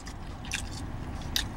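Someone eats Panda Express steak, with a few soft, wet bites and crunchy chewing bursts close to the mic, separated by quiet pauses.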